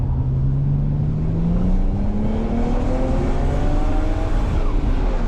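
A BMW 335i race car accelerates on the Mission Raceway Circuit, its engine note climbing steadily in pitch as the revs build, loud and close throughout with no talking.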